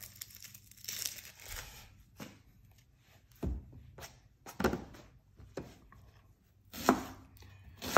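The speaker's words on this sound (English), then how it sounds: "make your slices as thick or as thin as you want." A knife slicing an onion on a cutting board for freezer prep, with a series of separate close chopping thuds and crisp cuts spaced irregularly over several seconds.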